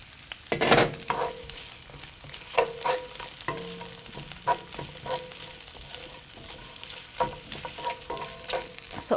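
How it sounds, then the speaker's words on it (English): Carrots sauté in a pan with a continuous sizzle and frying crackle, broken by repeated scraping stir strokes and clatters from a utensil. "So all I will do is saute the carrots, give them an early start because they take a little bit longer than the collards."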